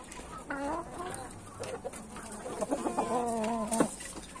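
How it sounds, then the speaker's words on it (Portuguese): A young hen clucking close by in a backyard poultry setting, a series of short pitched clucks and croons in bursts over a faint farmyard background. "Aqui tá minha franguinha que gosta de roubar o milho."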